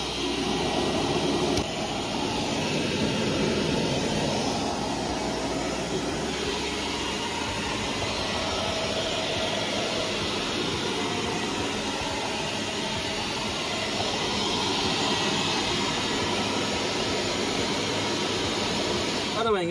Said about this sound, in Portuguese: Agora vamos tentar com o aspirador a tirar